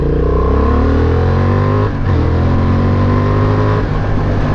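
A Honda Hornet motorcycle engine revs up loudly to around 4,000–5,000 rpm, its pitch climbing steadily, dips briefly and then rises again, close and continuous.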